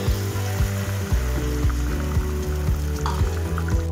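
Water poured into a pan of frying spice masala for restaurant-style paneer butter masala, giving a steady sizzle and hiss that sits under continuous background music.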